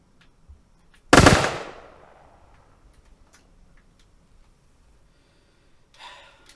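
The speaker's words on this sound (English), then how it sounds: "I didn't want to use the gun, but it was close quarters." A single close-quarters gunshot in the video game Atomfall: one sharp, loud report with a decaying tail, set in otherwise near silence, with a faint rustle near the end.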